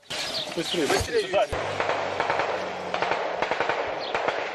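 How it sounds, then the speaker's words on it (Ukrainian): Rapid bursts of gunfire crackle near and loud over a steady rumble, with a voice briefly audible early on, as militants fire on a checkpoint in Sloviansk. "Бойовики стріляють по посту."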